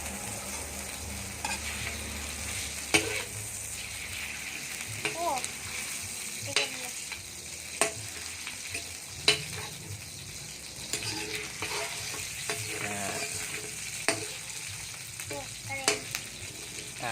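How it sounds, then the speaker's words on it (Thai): Steady oily sizzle of chicken skin frying in a pan, with repeated scrapes and clinks of a utensil stirring throughout. "เอาหนังไก่มาทอดก่อน"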